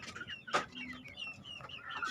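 Chickens clucking nearby, several short, scattered clucks and a sharper squawk early on, over faint background noise.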